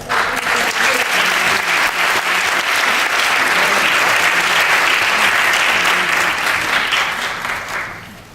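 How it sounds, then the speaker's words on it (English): Audience applause at a Kuchipudi dance recital and debut performance fills the hall, steady dense clapping that holds loudly for most of the span and then fades away near the end. "Another round of applause."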